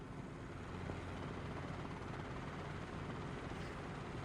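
An R22 turbine helicopter in Microsoft Flight Simulator 2020 hums as a steady, dense rotor and engine drone that holds constant and close throughout, with no talk over it.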